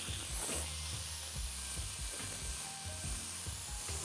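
Chopped onion and tomato sautéing in a pan, a quiet steady sizzle with intermittent low scraping strokes of a spoon, no talking.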